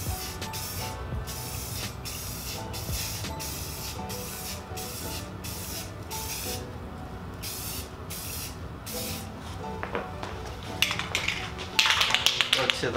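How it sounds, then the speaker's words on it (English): Spray paint hisses onto rifle magazines in a series of short repeated bursts with brief gaps, fairly close, followed near the end by sharper taps and clicks; a voice talks over parts of it. "Spray it here. Make sure everything is coated."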